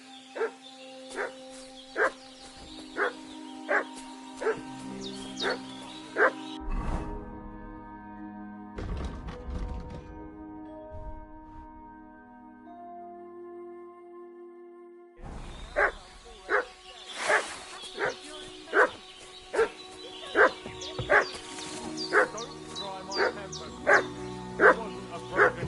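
A dog barks repeatedly in Kingdom Come: Deliverance 2, sharp evenly spaced barks near and loud, pausing midway under a sustained musical tone and some shuffling before the rhythmic barking resumes.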